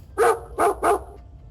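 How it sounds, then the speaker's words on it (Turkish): Three quick, sharp barks from a nearby dog, evenly spaced, then quiet. "kendisi eğitimli bir köpek"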